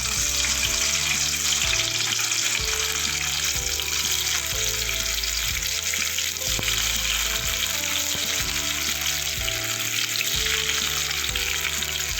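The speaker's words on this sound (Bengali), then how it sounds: "পনিরগুলো একটু লাল লাল করে ভেজে নেবো আমি।" Paneer pieces frying in hot oil in a kadai, a steady, loud sizzle and crackle running unbroken throughout with faint clinks of the pan beneath.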